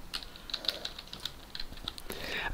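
Fingers type on a computer keyboard in quick, light, irregular clicks, fairly close but quiet, with a faint voice murmuring under it.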